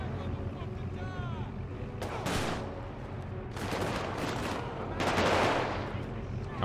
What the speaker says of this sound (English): Hearing the shots.